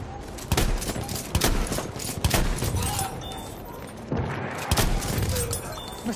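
Battlefield 1 combat brings bursts of machine gun fire and scattered gunshots in rapid, uneven volleys, loud and close, with a short pause before the firing resumes.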